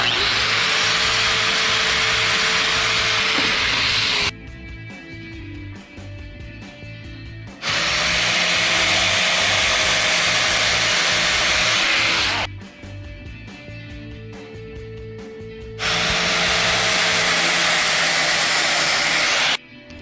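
A power tool grinds down a steel socket for a Can-Am wheel spacer job in three long loud bursts of harsh, broadband abrasive whine, separated by pauses where the motor spins down and only a quieter hum remains.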